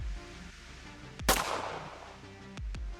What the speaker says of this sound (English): While I'm escaping, I get shot by a comrade of the masked samurai.